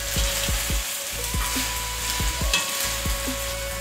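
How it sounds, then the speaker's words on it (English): Beef stir fry sizzles loudly in a pan while a utensil scrapes and knocks against it in a brisk, repeated rhythm, close up and without any talking. "Give it a good stir"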